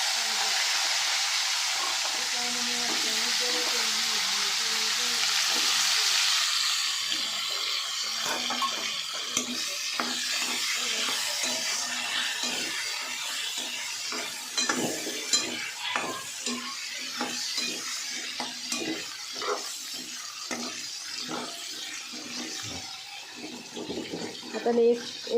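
Washed green bean pods sauté in a pan with cumin, curry leaves and turmeric, opening with a loud, even sizzle that gives way to repeated scraping and clattering strokes as they are stirred.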